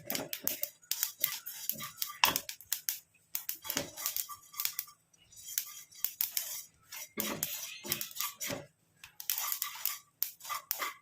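Ingredients stirred and frying in a pan, with repeated clinking and scraping of a utensil against the metal in irregular bursts, close and fairly quiet, with no talk.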